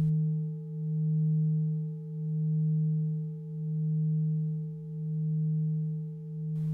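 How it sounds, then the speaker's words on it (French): Tibetan singing bowls ring in a long, pure, sustained tone with a fainter higher partial, pulsing in slow, even swells of volume, calm and alone with no voice. "à travers les sons des bols qui vous amènent à une méditation, une relaxation interne"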